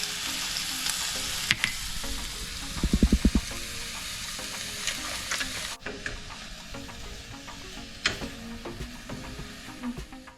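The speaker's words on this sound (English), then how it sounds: "While they are sauteing in the pan, I am going to chop rest of my vegetables." Mixed vegetables sauté in a pan for a weight-loss salad, a steady broadband sizzle running the whole time with a brief burst of clatter near the start and occasional light knocks, no voices.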